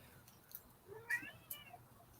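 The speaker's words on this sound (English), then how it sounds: "My cat is crying." A cat cries at the door with a few faint, drawn-out meows heard from some distance in a quiet room, spaced apart with soft noise between them.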